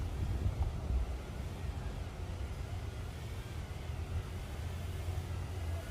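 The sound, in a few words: strong wind blowing on microphone during drone flight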